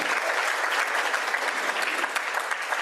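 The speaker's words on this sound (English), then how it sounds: "supposed to applaud at that." An audience at a Rotary Club meeting applauding, a brief burst of dense, even clapping from many hands in a room, loud and continuous with no talk over it.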